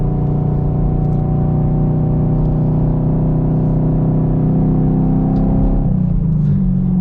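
Steady loud engine drone from a Chevrolet Camaro 2SS 1LE fitted with Eibach Pro Kit lowering springs, heard from inside as it drives off, with a shift in pitch near the end.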